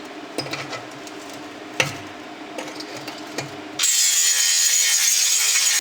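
Metal cutting on the steel body panel of an Austin J40 pedal car under restoration: a few sharp irregular knocks and scraping strokes, then a loud steady high-pitched grinding or cutting whine for the last couple of seconds.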